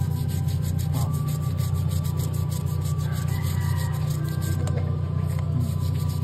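A dirty motorcycle chain is scrubbed steadily with a brush in a fast, continuous rasping rhythm, loud and close, with no talk.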